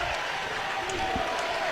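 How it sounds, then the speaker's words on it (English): A basketball crowd in a gym roars and cheers loudly during a close game with one minute left, a steady dense wall of cheering and applause throughout. "Smith asks for the crowd to get loud, and they oblige."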